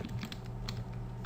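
Quick bursts of keystrokes on a computer keyboard, a short run of close, soft clicks over a low steady hum, with no talking.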